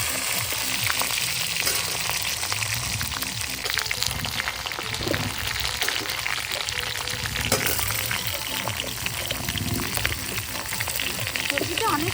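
Vegetables sizzle and fry in a kadai at a family picnic, a steady crackling hiss with the scrape of stirring running throughout, loud and close.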